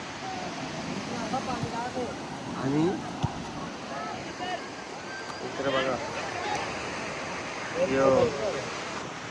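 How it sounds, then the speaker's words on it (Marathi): Water released from a dam under construction rushes out in a steady broad roar, while someone talks over it close by. "हे पाणी इकडे बाहेर सोडले."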